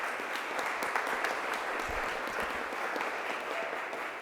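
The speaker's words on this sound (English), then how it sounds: "So let's give it a round of applause." Round of applause from the audience at a press conference on gun violence reduction grants, steady dense clapping throughout, fairly close and loud, with no talk over it.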